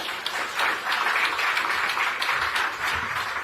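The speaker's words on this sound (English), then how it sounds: "A warm round of applause for him" Audience applause at a Kenyan presidential event launching an Amazon Web Services development centre, a dense steady wash of many hands clapping throughout with no break.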